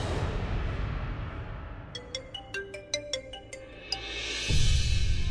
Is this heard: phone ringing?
yes